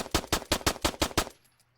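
Seven rapid, evenly spaced shots of 9mm rounds fired at a vehicle in the Arma 3 video game, loud and close, ending abruptly into near silence.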